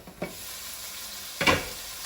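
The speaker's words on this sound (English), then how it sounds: "we're gonna be adding the whites and the ginger to the pan" Ginger and scallion whites dropped into a hot pan where chicken is browning, giving a low sizzle punctuated by two scraping clatters, the second louder and longer.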